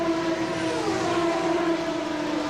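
An Indy car racing engine at full throttle during the Indy 500, a loud sustained high-pitched wail with a slowly bending pitch, heard close and alone.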